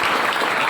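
Applause from a crowd during a Hindi political speech about total revolution, a dense steady patter of many hands clapping at close range, filling the whole moment without a break.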